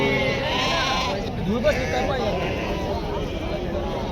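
A sheep bleats briefly amid a noisy flock at an outdoor sheep and goat market, with people talking throughout and steady background bustle.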